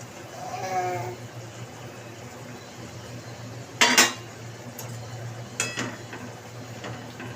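Live fish drop one at a time into boiling fish curry: two distinct wet splashes and sizzles, a few seconds apart, over a steady low simmering hum.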